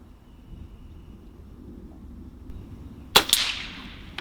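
A Barra 250z air rifle shot striking a backyard target, a single sharp crack followed by a brief ringing clang after quiet background hiss.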